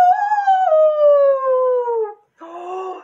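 Wolves howl in a children's storytelling performance, a long drawn-out tonal howl sliding slowly downward, then a short pause and a second rougher, wavering howl, close and loud with no talking over it.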